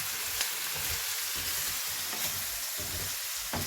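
Chicken wings seasoned with five spice sizzle in a pan with a steady, even hiss. A utensil scrapes and stirs through them in soft, irregular strokes, with a few sharper clicks.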